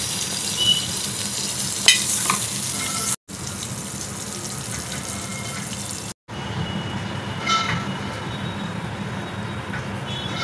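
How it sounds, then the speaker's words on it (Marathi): Eggs frying in butter on a hot iron bhakri griddle, a continuous close sizzle with scattered crackles, broken by two short silent cuts. "आता आपण अंडी तव्यावर फ्राय करून घेऊया."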